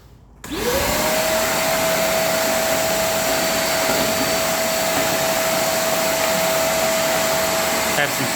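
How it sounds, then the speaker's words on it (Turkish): A Karcher WS3 vacuum cleaner switches on and runs loudly and steadily with a high whine, sucking up paper scraps from the floor, its broadband roar continuing for several seconds. "Şimdi denemek için yere kağıt parçalar attım. Bakalım bir süpürelim."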